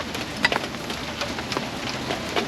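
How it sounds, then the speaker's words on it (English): Steady rain falling in Florida beside a Peterbilt dump truck under repair, a continuous soft patter with scattered sharper drops, moderately close and with no voices. "This rain won't give me a break, YouTube. It just keeps raining and raining."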